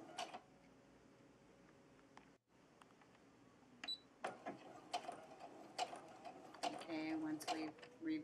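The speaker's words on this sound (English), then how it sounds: "We're going to stitch a couple of stitches forward, maybe 3 or 4. And then we're going to hit our reverse button and reverse maybe 2 or 3 stitches." A sewing machine stitches a straight seam, running a few stitches forward and then a few in reverse. The mechanical whirring comes in short, fairly faint bursts under steady background noise, with brief pauses between runs.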